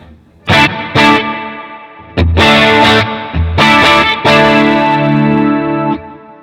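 An electric guitar runs through a pedalboard with micro pitch shifting and reverb, playing a few loud, bright notes and chords with shimmering, lingering tails, close and upfront.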